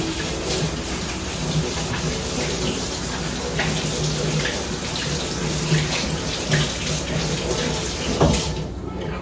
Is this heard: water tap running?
yes